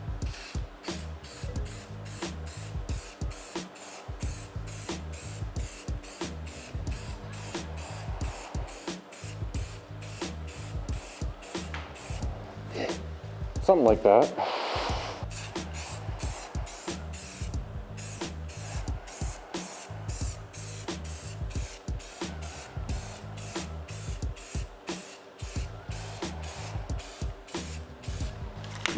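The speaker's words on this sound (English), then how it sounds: "I'm not the best at spray painting," An aerosol can of automotive 2-in-1 filler primer sprays in rapid short hissing bursts, close and steady, while painting a homemade Clone Trooper DC15-A prop blaster; a voice briefly speaks partway through.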